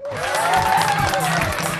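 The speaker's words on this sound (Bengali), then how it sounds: "আমার জন্য একটা হাততালি দাও।" An audience at a Bengali stage show breaks into applause, a dense burst of clapping and crowd noise that swells quickly and holds loud for about two seconds, with some voices mixed in.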